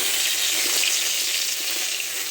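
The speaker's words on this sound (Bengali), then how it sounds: "তেল দিলাম প্রথম, ওটা অনেক গরম হয়ে গেছে। এর পেঁয়াজ দেবো, পেঁয়াজ বাটা।" Onion paste hits very hot oil in a pan, sizzling loudly and evenly with dense crackling throughout.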